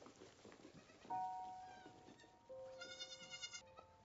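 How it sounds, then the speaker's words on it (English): A sheep bleats in a TV drama scene, two drawn-out, wavering cries close by, one after another, with no talk over them. "Oh, it's a sheep."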